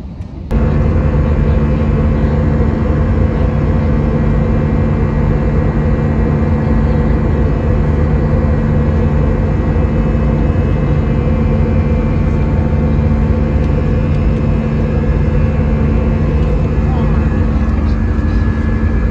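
Airliner cabin noise in flight, a loud constant low engine drone and broadband hum running unbroken throughout with steady tonal hums underneath.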